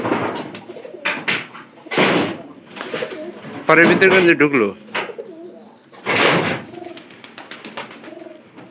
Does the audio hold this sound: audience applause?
no